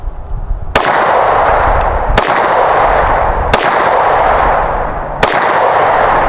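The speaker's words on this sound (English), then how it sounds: "let's fire to empty here." A handgun is fired until the magazine runs empty and the slide locks back: four sharp, loud, close shots spaced about a second apart, each followed by a ringing outdoor echo, with no talking.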